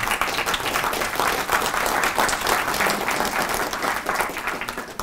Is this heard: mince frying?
no